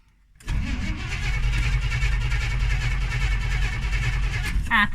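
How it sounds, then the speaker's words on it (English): A loud, raw 1981 Chevrolet Suburban engine with no exhaust, only manifolds, fires up and runs steadily with a harsh, unmuffled rumble and rattle, close by, then sputters near the end as it stalls. "It has zero exhaust, just the manifolds. So this thing is quite loud."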